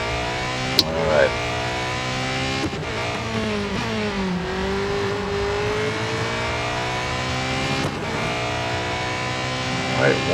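A Porsche 919 Hybrid Evo race car in Real Racing 3 drones and whines continuously at high revs, pitch dipping under braking and climbing again through gear changes, with someone talking over it.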